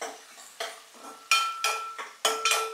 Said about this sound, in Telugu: ఓకే, సో ఇప్పుడైతే మనం చక్కగా కలుపుకుంటున్నాము